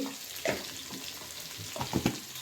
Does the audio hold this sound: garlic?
yes